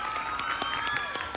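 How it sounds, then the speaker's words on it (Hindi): Audience at a school annual day claps steadily in a dense patter of applause, with crowd murmur and a faint sustained tone underneath. "भावेश्वर उनकी टीम के लिए जोरदार ताली हो जाए"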